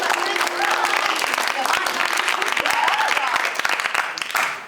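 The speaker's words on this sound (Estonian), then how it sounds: "Ja aplaus 30." Audience applause at an improv theatre festival show, a full, steady round of dense clapping that carries on for several seconds with a few voices mixed in.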